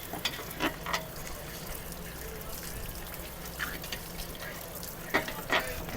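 Water flushes out of an RV water heater under a cheap sprayer, carrying mineral buildup off the heating elements: a steady hiss and gush of running water with a few louder splashy bursts.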